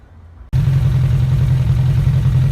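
A 2001 Suzuki Bandit 1200S motorcycle engine with freshly synchronized carburetors starts and settles into a steady, even idle, a loud close rumble that holds unbroken, with no talk.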